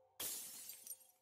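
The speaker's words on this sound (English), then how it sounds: "A loud shatter echoed throughout the room" A sudden loud crash of a glass fish tank shattering in a fantasy story game, followed by fragments tinkling and scattering for a second after the sharp impact.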